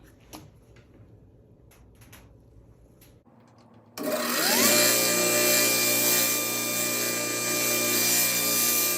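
Saw cutting through wood pressed against a stop block while making a segmented pen blank: quiet faint taps at first, then the loud steady whine of the blade biting into the wood, close and sustained to the end.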